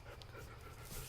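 An excited dog pants outdoors, quick breathy huffs in a steady rhythm, close and fairly faint.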